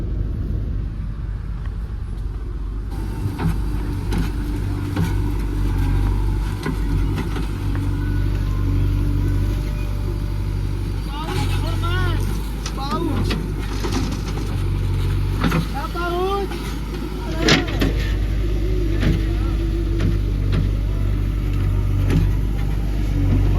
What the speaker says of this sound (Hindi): ये वैभव का ट्रैक्टर है।